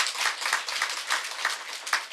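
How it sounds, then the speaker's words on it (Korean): A church congregation claps during a Sunday worship service, a light scattering of hands with a few distinct claps rising and falling. "박수 좀 쳐주세요."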